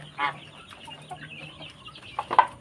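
Young chickens in a warmed quarantine coop with a heat lamp cluck and peep in scattered short calls, close by, with a louder burst near the end.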